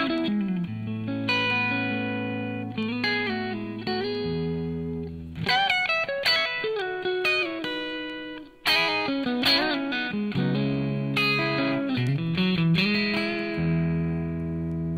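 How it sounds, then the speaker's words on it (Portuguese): An electric guitar played through the Space Verb reverb pedal on a Zoom G1Four multi-effects unit rings out in a loud, continuous run of sustained chords and single notes with long lingering tails and a brief dip midway. "vem pro Space Verb, que é o pedal de reverb aqui"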